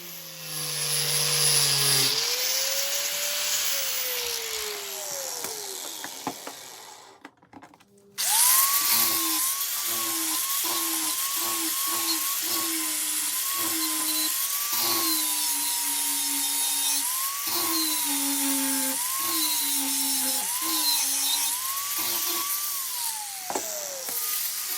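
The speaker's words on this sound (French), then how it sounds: "Avec le disque à lamelles, je termine plus finement de supprimer l'écrasement des deux lames" Flap disc grinding down rusty butcher cleaver blades, a loud continuous whine broken into many short pulses as the abrasive disc is pressed on and eased off the steel, with a brief pause partway through.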